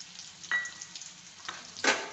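Onion frying in a pan for a Marathi capsicum stir-fry, a quiet sizzle with a few short bursts of louder crackle.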